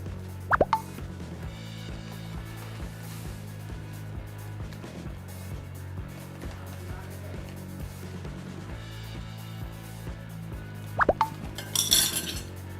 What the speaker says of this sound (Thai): เดี๋ยวคน ส่วนผสมให้เข้ากันนิดนึง